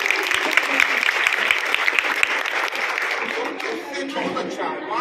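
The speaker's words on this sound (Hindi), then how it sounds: "तालियां।" A crowd at a safety and voter awareness event claps loudly and briskly, the applause fading toward the end as some chatter and a chuckle mix in.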